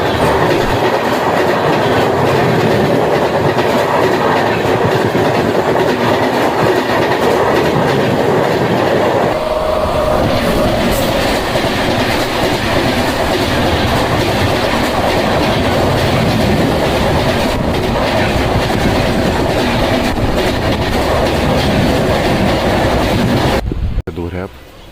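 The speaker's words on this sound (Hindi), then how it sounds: "लेकिन ट्रैक साउंड क्या गज़ब प्रोड्यूस करती है।" Sleeper coach of the 14242 Nauchandi Express running at around 100–125 km/h, wheels rumbling loudly and continuously on the track with rhythmic clickety-clack and wind noise, close and steady throughout.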